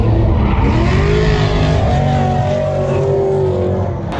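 Race cars drifting and skidding at the Nürburgring 24 Hour race give a loud, continuous engine roar with rising and falling pitch, close by, with no voices.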